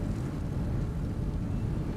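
A car engine in the video game Pacific Drive rumbling and revving, a steady low, heavy drone that stays constant and close with no speech over it.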